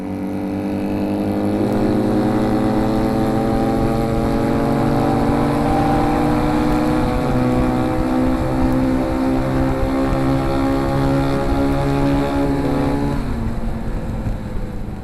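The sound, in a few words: two motorcycles riding together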